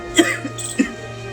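Person coughing, two short harsh coughs spaced a little over half a second apart, close and fairly loud against a quiet room hum.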